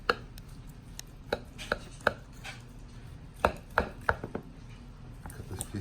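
Knife separating a porterhouse steak from the bone, heard as a run of sharp, close cutting and tapping strikes against a board, spaced irregularly with quiet gaps between them.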